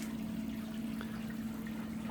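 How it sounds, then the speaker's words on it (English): Water trickles and runs steadily through a hydroponic NFT channel system in a greenhouse, a continuous low flow with a constant pump-like hum beneath it, alone with no talk. "you can hear the water running in the background"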